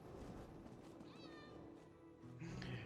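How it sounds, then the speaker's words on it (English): A cat meowing in The Elder Scrolls Online: a couple of faint, thin mews, then a brief hiss-like sound, set low under a steady hum of game ambience. "Kitty cat."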